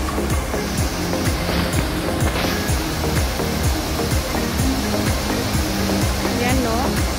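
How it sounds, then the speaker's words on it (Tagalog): Strong current of a rushing river, a loud, steady broadband roar of churning water filling the whole stretch without letup, heard close by outdoors. "ang lakas ng agos ng tubig"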